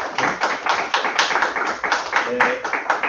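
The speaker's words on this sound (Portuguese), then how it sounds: "Uma salva de palmas" Dense, sustained applause from an audience after an academic lecture, loud and close, a continuous wash of many hands clapping for a few seconds with a brief voice near the end.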